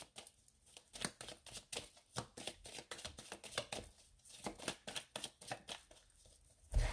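Tarot cards shuffled by hand in a steady run of crisp riffling bursts and soft slaps, close and quiet, with a few pauses between handfuls and no talking.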